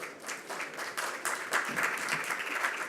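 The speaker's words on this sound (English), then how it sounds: "We can have a round of applause," Applause from a conference audience fills the room, a dense steady clapping that holds for the whole three seconds without voices over it.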